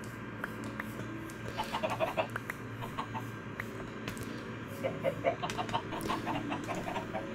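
Chickens in Minecraft clucking in short bursts, the clucks scattered and moderately faint over a steady low background hum.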